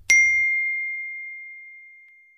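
A single bell struck once during a classroom English lesson, giving one clear, bright ding that rings on and fades slowly over about two seconds with nothing else heard.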